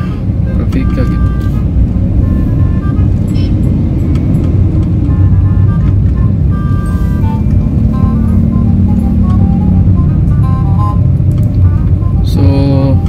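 Dense road traffic on a Cebu City street, a steady loud rumble of car and engine noise throughout with brief horn-like tones, while people talk over it.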